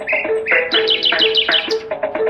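A bird chirps loudly and close by in quick bright bursts, with repeated short tweets grouped into lively phrases that barely pause throughout.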